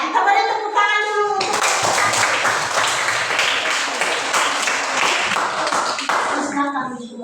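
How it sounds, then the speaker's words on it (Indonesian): A classroom group breaks into steady hand clapping during a teacher-training exam presentation, a dense burst of applause lasting several seconds, with children's and adults' voices speaking briefly before and after. "Kita beri tepuk tangan dulu"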